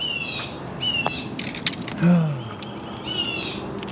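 An owl near a fishing spot in New Orleans, Louisiana gives several short, high, wavering calls spaced across a few seconds over steady outdoor background noise.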